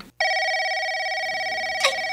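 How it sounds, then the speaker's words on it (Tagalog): A telephone ringing indoors, one loud sustained electronic ring tone that starts abruptly and holds steady, alone without speech. "Sasagutin ko lang po ang telepono."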